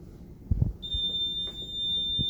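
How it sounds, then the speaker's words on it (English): An ABMC PB 980 running on AC power gives off a continuous, thin, high-pitched alarm tone that starts suddenly and holds steadily, over faint handling knocks in a quiet room. "whenever you plug it into the AC power, it will have a continuous, high-pitched, loud, audible alarm"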